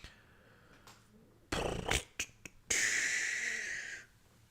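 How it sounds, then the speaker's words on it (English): A dog snores in the background of a quiet room at home, with faint breathing, then a loud rough snort and a long raspy, wheezing exhale nearby. "You can see my dog is snoring in the background."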